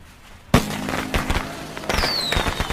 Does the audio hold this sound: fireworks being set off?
yes